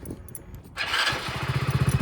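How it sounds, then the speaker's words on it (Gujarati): A motorcycle engine cranks and catches at about the midpoint, then settles into a steady, pulsing idle close by. "ચલો બાઇક સ્ટાર્ટ કરીએ"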